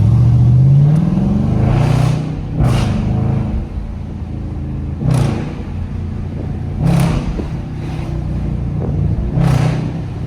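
A Camaro SS engine in a downtown driving video game revs hard and loud, surging and easing in repeated waves with a steady rumbling drone between bursts, no voices over it.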